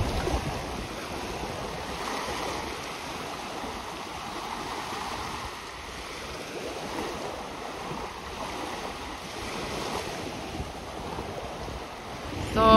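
Sea surf rolls onto a sandy beach on the Black Sea coast in a steady, continuous wash, heavily mixed with gusting wind buffeting the microphone, with no speech.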